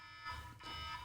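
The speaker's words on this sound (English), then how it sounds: "I think I had a call come into the computer." A computer sounds its alert for an incoming call during an interview, a bright electronic two-part chime repeated twice in quick succession, clear and steady over a quiet room background.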